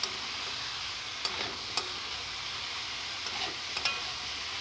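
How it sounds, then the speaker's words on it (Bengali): Radish greens, potato and eggplant being sautéed with spices in a pan, with a soft steady sizzle and a few light scrapes of stirring, close and fairly quiet, no voices. "ভালো করে আমি মূলো শাক আলু বেগুন ভালো করে মশলা দিয়ে কষিয়ে নেব"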